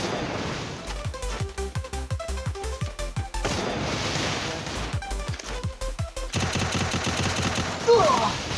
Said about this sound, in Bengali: MP40 হেডশট দিয়ে একদম হাসান ভাইরে চিট করে ফেলাই দিছে ভাই রে